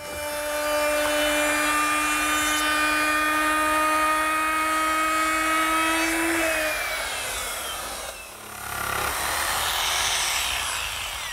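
A router fitted with a 1/2 inch quarter round bit, guided by a fence, cuts a bullnose edge on a wooden sideboard part with a loud, steady high-pitched whine that drops in pitch near the end, dips briefly, then resumes.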